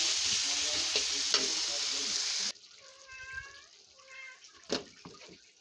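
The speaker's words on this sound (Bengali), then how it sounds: "আদা রসুন বাটা দিয়ে দিলাম।" Ginger, garlic, cumin and onion paste hits hot oil in a pan and sizzles loudly for a couple of seconds, then the frying drops to a quieter crackle with a few stirring clatters and a cat meowing nearby.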